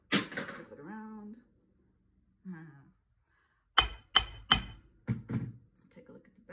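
A 2.5 pound dead blow hammer strikes a metal stamp in a run of sharp, close thuds: three quick blows, then a few more spaced hits, with a voice talking briefly before them.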